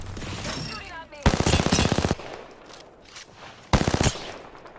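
Bursts of rapid automatic gunfire in a battle royale video game, two loud sustained volleys separated by quieter stretches, with a faint voice underneath.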